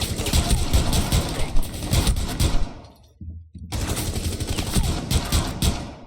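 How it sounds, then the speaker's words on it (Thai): Rapid pistol and gunfire bursts in the tactical shooter game Rainbow Six Siege, loud and dense with thuds, breaking off into near silence for a moment before the shooting resumes. "คราวนี้จะสลับมาใช้เป็นปืนพกแทน"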